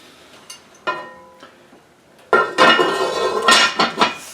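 A lid set onto a Dutch oven holding sourdough, giving a couple of sharp metallic clanks followed by a clattering, ringing burst of pot and lid contact, close and loud.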